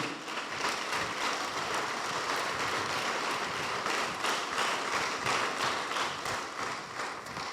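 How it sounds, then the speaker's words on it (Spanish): A church congregation claps together in a dense, sustained round of applause that fills the room evenly for several seconds, with no voices over it. "Dale un aplauso al Señor por eso"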